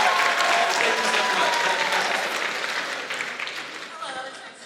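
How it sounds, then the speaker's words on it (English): Audience applause at a One Piece voice actors convention panel, dense steady clapping from a large crowd that fills the room and gradually thins toward the end, with some voices mixed in. "Give a round of applause"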